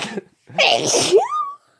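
One close, loud sneeze bursts out after a quick inhale and trails off into a brief voiced squeak before silence.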